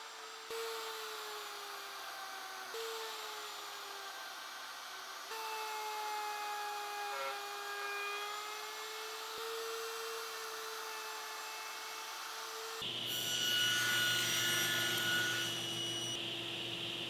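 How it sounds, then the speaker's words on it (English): Horizontal mortiser cutting a mortise in cherry wood held in a tenoning jig: a steady, high motor whine with shifting pitch through several passes, then a louder, harsher cutting surge near the end, close and without talk. "to pull off that mortise, I'm going to use my horizontal mortiser"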